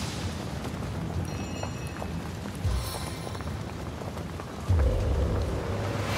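Rain and thunder in the video game Divinity: Original Sin: a steady hiss of rainfall with two deep thunder booms rolling in, each followed by heavier rumble, with no voices.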